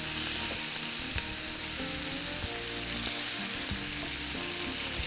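Chicken skin fries in a pan as its fat renders, giving a dense, continuous crackling sizzle that is loud and close throughout, with no talking over it.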